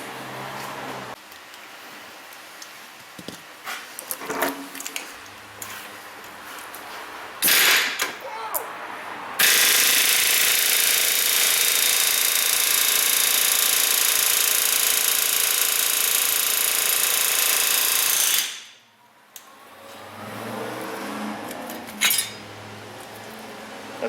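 Pneumatic air hammer chisel driving out a GM front wheel hub bearing, a loud continuous rapid hammering burst of about nine seconds, preceded and followed by brief metallic clanks and shop noise.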